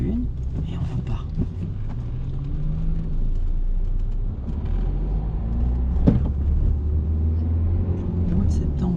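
A learner driver's car pulls away in first gear during a driving lesson: a steady low engine rumble with a rising rev tone, interior road noise continuing throughout, and a brief knock near the middle.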